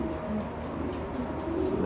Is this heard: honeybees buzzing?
no